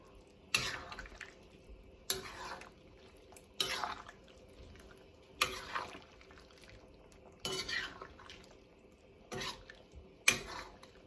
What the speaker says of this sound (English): So let me stir that up